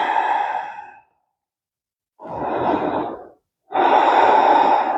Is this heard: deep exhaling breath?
yes